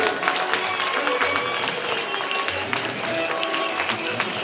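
A yoga camp group claps loudly and continuously, a dense wash of many hands close by, with a leader's voice calling out over it.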